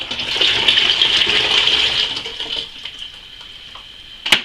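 1.5 litres of water pours steadily into a kettle for about two seconds, the splashing fading to trickles, then a sharp clunk near the end.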